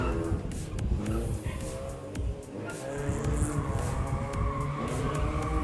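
An autocross race car driven on a course at a regional autocross championship, engine droning steadily with squealing tires and sharp bursts throughout, loud and continuous with crowd and ambient noise.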